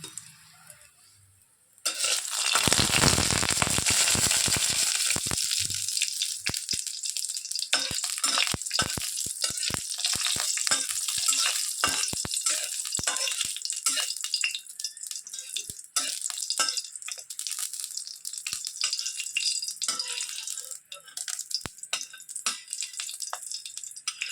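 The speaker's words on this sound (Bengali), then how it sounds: "এখন আমরা তেল গরম করেছি করে এবারে আগে লঙ্কা ভাজবো।" Chilies hit hot oil with a sudden loud hiss that settles into a steady close sizzle, with scattered crackles and pops throughout, before frying radish greens.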